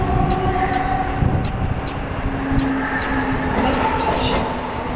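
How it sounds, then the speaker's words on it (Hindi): A Mumbai non-AC local train runs with a steady, loud rumble and rattle of wheels on rails, heard from inside the coach with a constant roar and no pauses. "रेलवे स्टेशन से इस ट्रेन का जो है डिपार्चर हो रहा है।"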